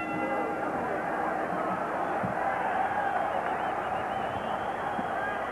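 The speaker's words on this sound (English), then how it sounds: "this crowd is now really in a state of bedlam" Boxing arena crowd at a WBC featherweight title fight in uproar between rounds, a dense, continuous roar of cheering and chatter held at a steady loud level throughout.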